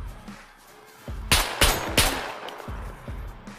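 AK-15 rifle fire in the video game SCUM, a burst of several loud, sharp gunshots in quick succession, close and punchy, with a brief quiet lead-in and fading echoes after.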